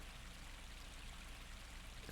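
Gentle babbling brook ambience from the farming game Harvest Moon: A Wonderful Life, a soft steady trickle and wash of flowing water with faint droplet patter, even and continuous with no voices.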